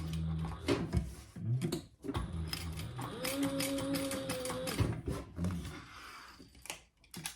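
A sewing machine stitches a crossbody phone bag in steady mechanical whirring runs, with a clear humming stretch in the middle and ticking, clunking handling sounds around it, heard close up.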